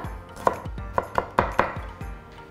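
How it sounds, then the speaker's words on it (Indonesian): A knife slices shallots on a cutting board while preparing red bean soup, giving about five or six distinct, fairly close chopping taps in an uneven rhythm with no talk. "siapkan bawang merahnya di sini 6 buah ya. Sama, kita iris-iris aja."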